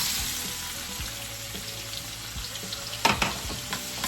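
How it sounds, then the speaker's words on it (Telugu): Onions fry with spices in butter and oil, giving a constant crackling sizzle, then a brief clatter of stirring near the end, with no one speaking. "ఆనియన్స్ కొంచెం ఫ్రై అవ్వాలి."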